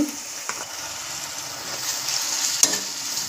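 Onions, green chillies and ginger-garlic paste fry in a pan for a coconut-milk chicken curry. A steady, close sizzle carries throughout, with occasional scrapes of stirring and a sharper clatter near the end.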